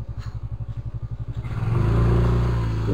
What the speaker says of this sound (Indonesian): Itu motornya tuh.